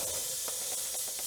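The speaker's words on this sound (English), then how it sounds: "spray some soapy water around the wheel and tire, especially on a rim like this" Soapy water is sprayed around a mounted wheel and tire in a garage, a steady close hiss with a few faint pulsing bursts.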